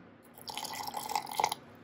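Water trickles into thick coconut chutney in a mixer jar, a short faint pour of about one second that starts and stops cleanly against a quiet background.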